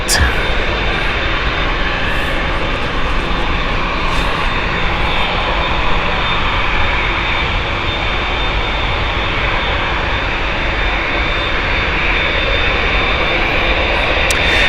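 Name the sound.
airliner jet engines at Gatwick Airport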